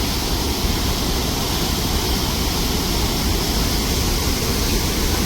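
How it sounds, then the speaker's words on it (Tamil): Water rushing fast through the opened spillway gates of Muthaiyankattu tank, a loud, steady, broadband roar with no breaks. "பாருங்கள் இவ்வளோ வேகமாக பாயுது அந்த தண்ணி."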